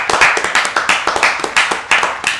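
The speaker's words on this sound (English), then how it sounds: "Round of applause for the extra." Steady, brisk hand clapping from a small group, loud and close, with sharp evenly spaced claps and no talking.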